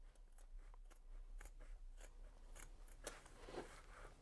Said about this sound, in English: I will stick this small scissors through the hole I created.